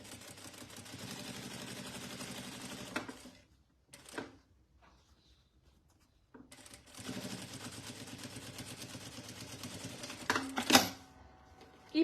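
Sewing machine stitching a seam through thick, layered fabric for a fabric wallet, a steady mechanical run of about three seconds, a pause with light handling, then a second longer burst of stitching.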